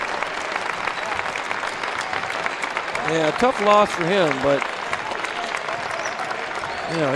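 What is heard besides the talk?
basketball crowd applause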